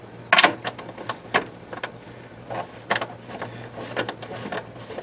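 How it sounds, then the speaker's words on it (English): A 3/8-inch drive ratchet on a six-inch extension backs out 13 mm bolts on a Ford Expedition, giving bursts of quick clicking with pauses between, close and fairly loud. "13 millimeter 3/8 drive with a 6-inch extension just to make it a little easier."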